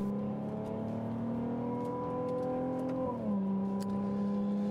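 A 2022 Ferrari 296 GTB with its plug-in hybrid V6 runs at a steady high-pitched drone, then the engine note drops abruptly as revs fall, heard close and loud on the road with no talking.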